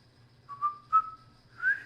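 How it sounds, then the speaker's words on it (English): A person whistles a few short, wavering notes, thin and fairly close, with brief pauses between phrases and a faint low hum underneath; no talking. "Oh, I can't whistle anymore."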